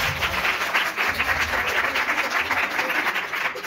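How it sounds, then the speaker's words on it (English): Audience applause at the opening of a founder's speech, a steady broadband wash of many hands clapping at fairly loud, even level throughout with no voices on top. "Please give yourself a round of applause."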